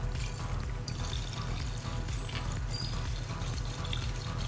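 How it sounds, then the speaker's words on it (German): Petrol (E10) poured from a canister into the tank of a Japanese import car, a steady continuous liquid pour with gurgling, close and fairly loud throughout, with no talk over it. "dann musst du einmal Benzin da reinfüllen"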